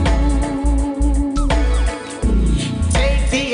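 A song plays loud and continuous, with a sung melody over steady rhythmic backing that comes in bursts with brief dips.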